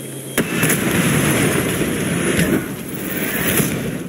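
Loud explosions and a roaring blast rumble as an anti-aircraft site is destroyed in Far Cry 6. A sharp initial burst is followed by sustained booming and crackling debris.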